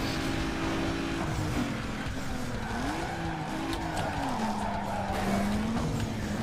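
In Need for Speed Underground 2, a car slides through a corner after a handbrake pull, with a long wavering tire squeal over a steady engine drone, loud and continuous, with no talk.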